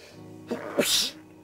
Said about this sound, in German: Niesen.